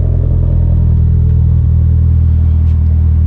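A cold GSX muscle car engine idles steadily up close, a loud, even low rumble with no revving and no talk over it.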